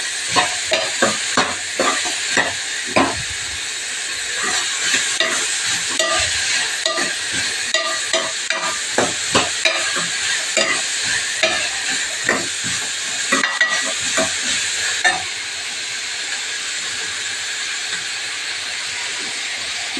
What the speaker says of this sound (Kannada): ಸ್ವಲ್ಪ ಎಣ್ಣೆ ಚೆನ್ನಾಗಿ ಫ್ರೈ ಆಗಲಿ.